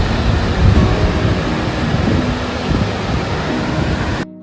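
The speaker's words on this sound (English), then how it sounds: "Now the water flow is super crazy. It's super loud" Rainbow Falls in Mammoth Lakes, California, swollen after a heavy winter, roars as a dense, steady wall of rushing water, loud and close, with no voices over it until it cuts off abruptly near the end.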